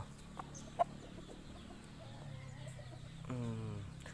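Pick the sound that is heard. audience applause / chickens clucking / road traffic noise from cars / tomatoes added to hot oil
chickens clucking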